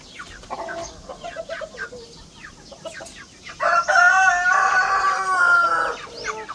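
Rhode Island chickens in a backyard poultry pen, several birds clucking in short bursts before a loud rooster crow rises over them, with a soft outdoor background throughout.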